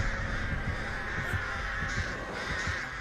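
Crows caw in the video game Unseen: a run of harsh, repeated caws over a dense, constant game backdrop, with no voices.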